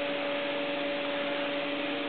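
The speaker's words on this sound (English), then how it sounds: "And you can hear the fan working in the background." Cooling fan of a small magnetic separator running steadily, a constant broadband whoosh with a faint electrical hum beneath it, moderately quiet and with no voices.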